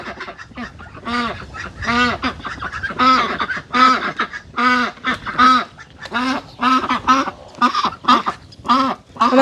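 A farmyard flock of geese honks in a loud, repeated chorus of harsh calls, with ducks mixed in, close by and continuous over several seconds.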